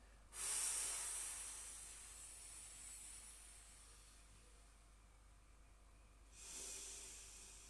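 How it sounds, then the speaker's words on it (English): A slow, deep breath in and a long, drawn-out breath out during a core exercise, airy and close, followed by another sharp inhale near the end, faint and with no talking. "you breathe in, fill that chest, fill that tummy, and then breathe out"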